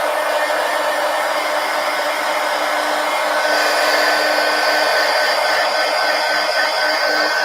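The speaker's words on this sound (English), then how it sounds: "Let's hit this with the heat gun again." A heat gun blows hot air steadily onto a textured art journal page, a loud continuous whooshing roar that holds unbroken throughout with a slight rise midway.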